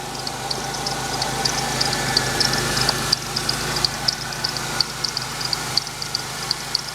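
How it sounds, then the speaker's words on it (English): A 3400 V6 car engine idles steadily with a faint, repeating high-pitched belt squeak chirping over the low rumble; no one talks. "Got a belt squeaking on it."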